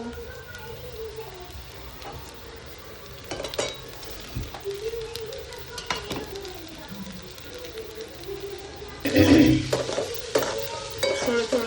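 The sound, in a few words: cabbage being stirred and fried in a pan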